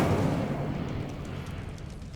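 An Incendio fire spell cast in Hogwarts Legacy bursts out as a loud, broad roaring whoosh that swells at once and fades steadily over about two seconds, with no voices.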